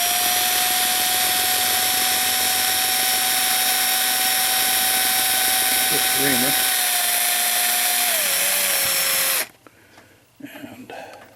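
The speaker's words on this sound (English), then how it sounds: "We're going to drill this out." A small drill bores out a bushing hole in an 8-day Hubert Herr cuckoo clock movement, a loud steady high whine that dips in pitch near the end and then cuts off abruptly, leaving low handling noise.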